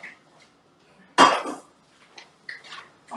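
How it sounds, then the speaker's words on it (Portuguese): A hot cooking pan lands on a kitchen counter with a single loud metallic clatter, then a few softer knocks and scrapes of cookware close by. "Deixa eu só colocar essa panela quente pra cá."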